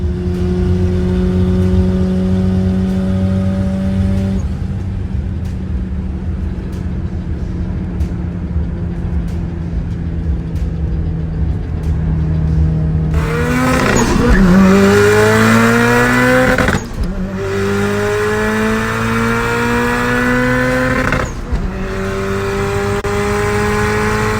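A 500 hp Mitsubishi Lancer Evolution idles with a steady rumble, then its engine roars hard through several rising revs and gear changes as it accelerates, loud and close with no talking.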